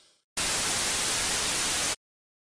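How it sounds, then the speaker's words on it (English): A steady burst of broadband hiss, even and loud, starting abruptly and cutting off cleanly after about a second and a half, with silence around it. "a specific noise oscillator that will give you general broadband noise"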